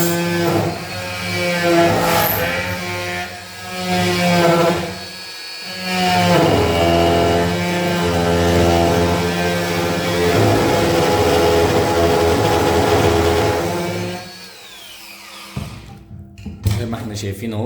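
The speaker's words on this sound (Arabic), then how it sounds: "قطع معايا الخشب بكل سهولة وسلاسة" An electric angle grinder, a light-duty home-use tool, cuts through wood with a loud, sustained whine and grinding buzz that dips briefly mid-cut, then stops with a few short bursts at the end.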